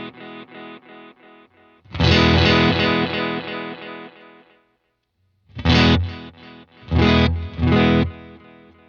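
An electric guitar played through a Boss Space Echo RE-202 tape echo pedal, sustained chords ringing with repeating echoes that swell and fade, then a pause and a few shorter, punchy strummed bursts, loud and close.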